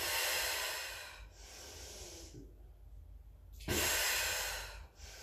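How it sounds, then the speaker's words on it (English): Deep, audible breaths in and out during a yogalates session, close to the microphone: a long rushing inhale and exhale, a quieter pause, then another strong breath. "get ready with those three breaths first"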